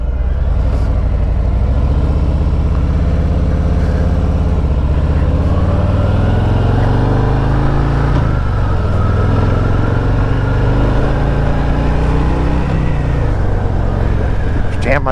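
A 2023 Harley-Davidson Fat Boy 114 motorcycle is ridden. Its loud, close engine rumbles steadily throughout while the revs rise and fall with gear shifts, and a rider's voice speaks over it.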